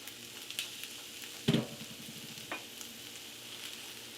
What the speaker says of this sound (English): So we're just going to cook down our kale. Stirring it until it wilts.